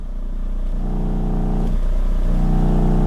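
A car engine idles in gear, its worn motor mounts letting the whole car shake through the steering wheel. A steady, close, low harmonic rumble holds throughout with slight swells in tone and no talking.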